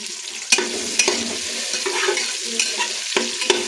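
Onions fry in oil in a pan for chicken biryani while a utensil stirs them, a close sizzle under repeated scraping and clinking strokes against the pan, with no talk.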